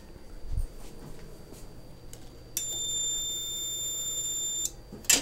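A fire alarm bell from a system panel test rings loud and steady for about two seconds after some faint handling noises, then cuts off.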